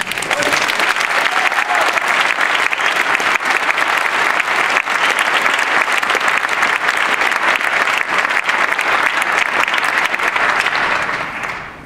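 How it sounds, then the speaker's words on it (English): A symposium audience gives a long, loud, sustained round of applause to the speaker at Terroir Symposium 2013, with dense clapping that holds steady for about eleven seconds before tapering off at the end. "So big round of applause for him."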